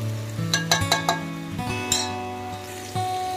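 Chicken frying in a pan with a ground powder of cinnamon, cloves and cardamom, a steady close sizzle broken by a few sharp clinks and scrapes of stirring, with no talking.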